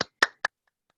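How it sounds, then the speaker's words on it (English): Three sharp, isolated clicks, close and clear, spaced evenly in a quiet setting over a Zoom meeting connection. "Here's the clap."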